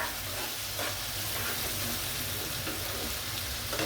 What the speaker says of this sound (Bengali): আমি ভাজবো ভালো করে পেঁয়াজের হাইটা পেঁয়াজটা ভালো করে ভাজবে